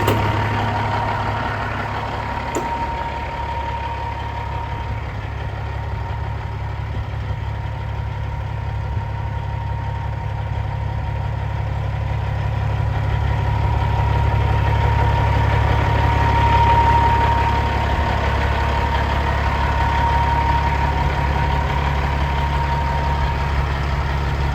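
Steady close-up idle of a Cat-powered 2015 Kenworth W900L glider truck, an unbroken low diesel drone that swells slightly in the middle and continues alone without any voices.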